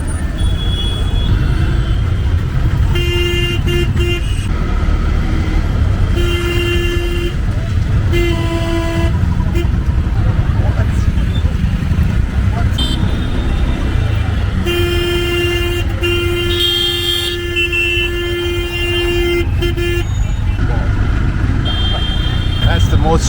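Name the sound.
honking horns and engines in chaotic Jodhpur tuk tuk traffic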